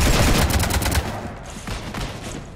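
Sustained rapid gunfire in the video game Mass Effect 3 as a ship is shot up, a dense loud burst of shots that eases slightly toward the end, no voices.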